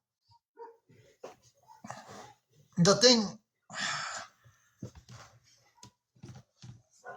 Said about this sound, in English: I wanted to see what my dogs are barking at.